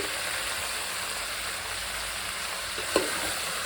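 Eggplant and tomato fry in hot oil in a pan, giving a steady, even sizzle throughout with a brief soft clatter near the end as pieces are added or stirred; no one speaks.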